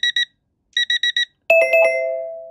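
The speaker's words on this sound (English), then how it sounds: "You can see there's an array of loud and wonderful alerts that you can choose from." The Anchor Alert app sounds an alarm as an electronic alert: two quick beeps, a pause, four more beeps, then a louder chiming tone that rings out and slowly fades.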